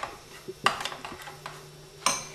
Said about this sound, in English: I'm going to add all of that garlic. There are about 6 cloves of garlic in there, and mix it all up in this marinade.